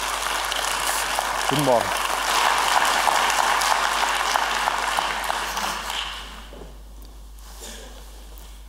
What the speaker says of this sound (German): Applaus bitte für Herrn Latif.